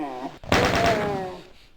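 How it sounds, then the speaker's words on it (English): A short, dense burst of gunfire from the video game Doom erupts suddenly and loudly, a rapid rattle of shots that tails off within about a second, following a brief stretch of talking. "small controlled bursts of fire"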